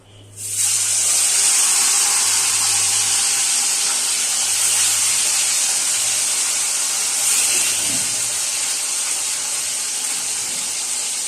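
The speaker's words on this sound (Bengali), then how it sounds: "তো প্রথমে আমি মাছগুলো ভেজে নেব।" Katla fish frying in hot oil, a loud, steady, close hiss that rises suddenly and holds unbroken throughout.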